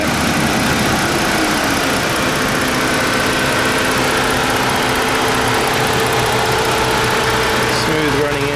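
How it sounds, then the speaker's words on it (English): A 2015 Ford Taurus SEL's naturally aspirated engine idles steadily up close, a dense, continuous hum with a low rumble throughout, while a person talks over it. "Smooth running engine, plenty of power, 288 horsepower, that's pretty impressive."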